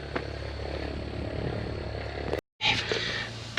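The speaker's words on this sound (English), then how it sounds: "You're in a helicopter, Joey?" Steady rotor and engine drone from inside a helicopter on a tour over Boston, loud and continuous. The sound cuts out briefly near the end, then resumes.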